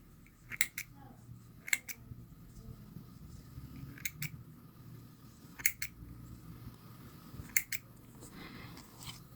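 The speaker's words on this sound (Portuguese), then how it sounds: "aí agora nós vamos cortar o excesso" Scissors trim excess yarn from a crocheted amigurumi baby sandal, giving five sharp, separate snips spaced a second or two apart. Each cut is close and crisp over a faint low background hum.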